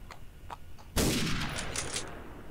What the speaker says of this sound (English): this is an example of what you do with an SMG